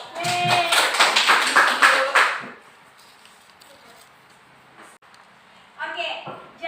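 A burst of clapping in a classroom, mixed with voices, lasts about two and a half seconds and then gives way to a quiet room with faint shuffling before someone starts speaking again.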